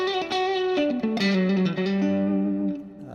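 Electric guitar playing a run of sustained, bending notes with heavy reverb and distortion, the tail washing out into a long echoing decay; loud and close, no voices.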